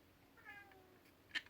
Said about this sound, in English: And that's my cat, sorry about that.